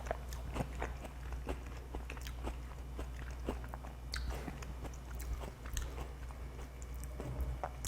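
Close, steady chewing of an oyster dish made with garlic, onion and lemon, with soft crunchy bites from the onion repeating in a quiet rhythm, alone with no talk.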